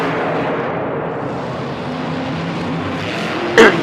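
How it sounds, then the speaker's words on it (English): Monster trucks from Monster Energy and Lucas Oil Crusader race in a racing semifinal in a stadium at the Georgia Dome in Atlanta, a loud continuous engine roar echoing through the arena, ending in a short sharp bang. "Now we have Damon Bradshaw in Monster Energy taking on Lindsey Wink and Lucas Oil Crusader in the racing semifinals"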